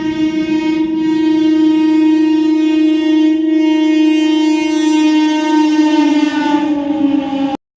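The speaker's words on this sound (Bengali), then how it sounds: "চাঁচায় ট্রেন এসে পৌঁছালো" A train sounds one long, loud horn blast that holds steady for several seconds and sags slightly in pitch near the end.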